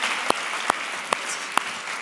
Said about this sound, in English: Give a round of applause for coming up and being great.